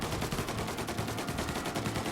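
Rapid automatic gunfire from a shootout in Mafia Definitive Edition, a dense stream of evenly spaced shots, loud and continuous with no talk over it.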